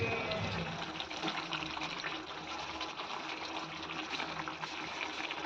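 Water is poured into a pan of fried garlic, a steady broadband gush and hiss with a faint simmering crackle running continuously throughout, fairly loud and close, with no talking.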